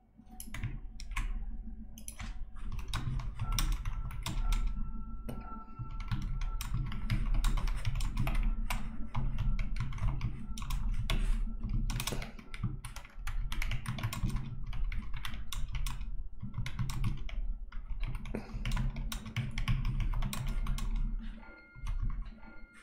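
Steady computer keyboard typing while coding for open-source game development in Godot, a dense run of close clicking keystrokes with brief pauses, loud and continuous with no talk.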